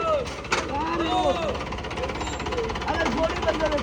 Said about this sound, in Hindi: इंजन वैन भाई ये चलाने देखो पूरी एकदम सेम ट्रक वाली साउंड आ रही है